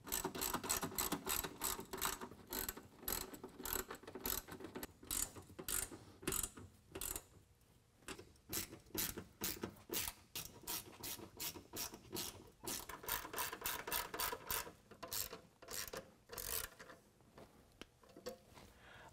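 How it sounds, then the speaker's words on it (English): A ratchet tightens 10mm bolts on running board step brackets of a 2020 Ram 2500 pickup, close, crisp rapid clicking bursts with brief pauses between strokes, no voices. "Then we can tighten down our pinch weld hardware with a 10mm each side"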